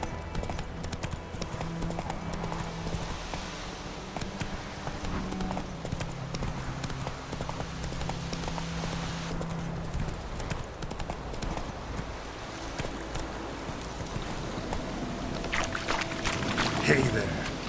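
Roach, a horse in The Witcher 3, galloping with steady clip-clop hoofbeats that run right through, layered over game music and ambient noise, with a few faint snorts.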